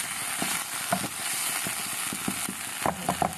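Masala curry being stirred in a hot pan, soft scraping strokes and spoon clinks over a steady sizzle of frying, close and moderately loud, with a quicker burst of stirring near the end.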